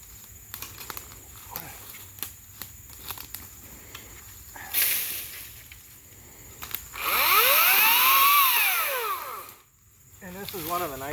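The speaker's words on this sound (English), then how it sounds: "the nice things about the battery powered or electric chainsaws" Scattered light clicks and rustling, then a Ryobi 40V brushless battery chainsaw whirs up in short bursts, its pitch swooping as it bites into small brush, fairly close.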